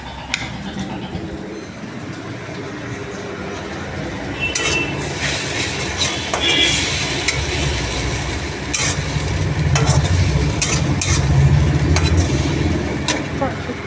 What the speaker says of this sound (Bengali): চিনিটা চালাই,